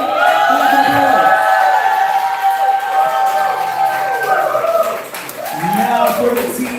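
A poetry slam audience claps and cheers for poets at the end of a bout, a loud, lively crowd sound with shouts and whoops layered over continuous applause, dipping briefly before swelling again.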